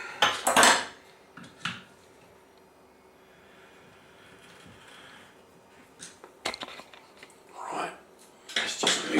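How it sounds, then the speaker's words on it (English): Metal clunks and clinks come from an air rifle tube, the KRAL NP02, being clamped into a metal vise. Clustered knocks and scrapes open the passage, a quiet hum fills the middle, and a few more metallic taps close it. "Alright, clamp your tube in a vise."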